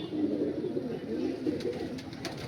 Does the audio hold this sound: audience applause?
no